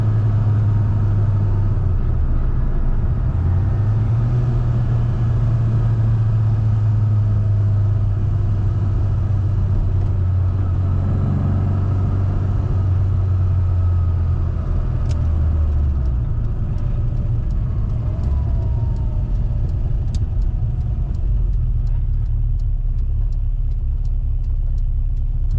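A classic Mini Cooper S Sport 5 drives at speed on an open road, its engine a steady droning rumble from inside the cabin whose pitch climbs and falls with gear changes, alongside constant road and wind noise and no talking.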